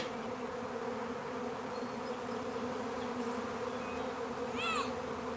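A dense, steady hum of a honeybee swarm buzzing together, droning continuously, with a brief higher chirp near the end.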